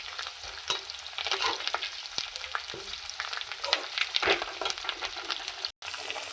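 Onions and curry leaves sautéing in oil for a chicken gravy, a continuous bright sizzle with frequent stirring scrapes nearby and a very brief dropout near the end.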